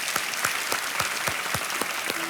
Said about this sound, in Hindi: एक बार फिर तालियां बज जाए अनुराधा के लिए